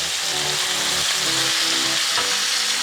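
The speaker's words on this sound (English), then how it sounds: "We just cook it for about 30 seconds to reduce the moisture and emulsify the butter with the acid" Prawns fry in butter with lemon juice, giving a loud, steady sizzle and crackle throughout with faint stirring underneath.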